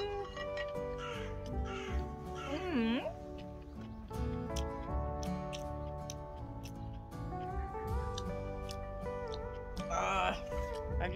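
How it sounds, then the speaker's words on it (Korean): A crow caws repeatedly, loud and close, while a person talks in Korean throughout, outdoors by a vegetable garden. "에이, 까마귀 시끄러워."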